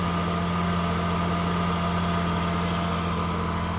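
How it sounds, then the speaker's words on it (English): A Nissan GQ Patrol engine runs at a raised idle, a steady even hum with a low droning tone throughout and no talk. "idle the engine quite high"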